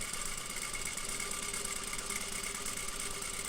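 Sewing machine running steadily while stitching fabric before a backstitch, a continuous fast mechanical whir and buzz at even volume, close and alone without talk.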